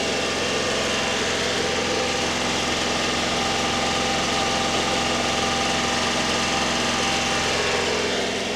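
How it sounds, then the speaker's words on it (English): The rear-mounted engine of a 1997 Honda Acty 4WD mini truck idles steadily and close up, a constant buzzing drone with a fast, even vibration and no voices. "So the engine in this thing is actually located in the back of the truck."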